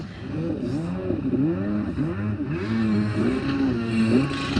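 A Kawasaki 650SX jet ski fitted with an 800 conversion runs on the water, its engine note rising and falling in quick revving sweeps as the throttle is worked, loud and steady throughout.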